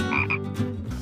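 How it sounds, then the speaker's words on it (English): Cane toads in a sack croaking loudly and close, a dense rattling chorus of overlapping calls that runs steadily through the whole moment with no voices. "this sack of cane toads"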